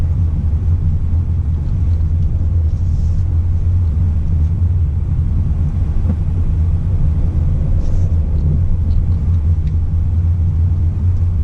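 A 2019 Subaru Crosstrek with all-wheel drive travels over bumpy ground, heard from inside as a constant heavy low rumble of road and engine noise with occasional soft knocks.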